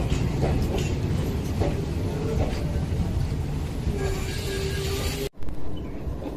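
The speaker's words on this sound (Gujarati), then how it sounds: "હવે ટ્રેન આવી ગઈ ઊભી રહી ગઈ" Steady heavy rumble of a train arriving and stopping at a station, with faint squeals and clatter on the rails, ending in an abrupt cut before the noise resumes.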